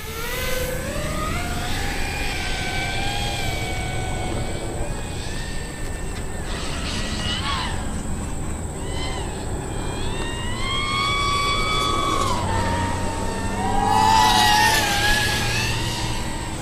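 An FPV racing drone flies with a high, whining motor buzz that rises and falls in pitch as it throttles up and down, continuous and fairly loud, swelling strongest near the end.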